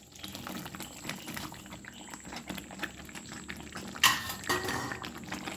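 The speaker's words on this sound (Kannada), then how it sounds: "ಮಸಾಲೆ ನೋಡಿ ಚೆನ್ನಾಗಿ ಬೇಯ್ತಾ ಇದೆ" Spice masala for a soybean sukka bubbling and simmering in a pan, a steady low cooking noise with a few sharp utensil scrapes and clinks near the end.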